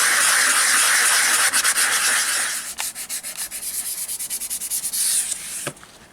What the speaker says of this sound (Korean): 울퉁불퉁하면 거기를 꼭 확인해서 사포로 다듬는 작업을 꼼꼼하게 해주셔야 됩니다